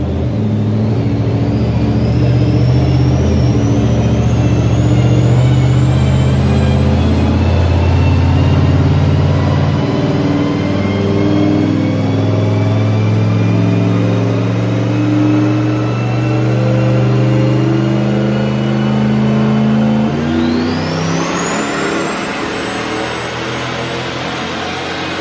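Car engine with a Holley Terminator X setup on a dyno, revving loudly and steadily with its pitch climbing through a long pull, then a sharp rise near the end before it backs off.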